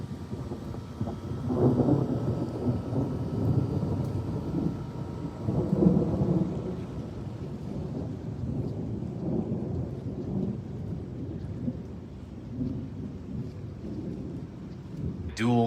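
Thunder from a frequent-lightning storm rumbles low and long across the whole stretch, swelling in a few heavy rolls at a distance.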